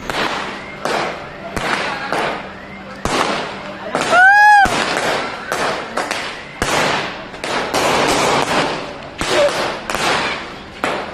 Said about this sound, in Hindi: हमने ऊपर जाके और पटाखे फाड़े